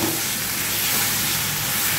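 Cashews frying in hot oil in a pan while cooking a fish-head curry, a steady loud hiss and sizzle with no break and no voices.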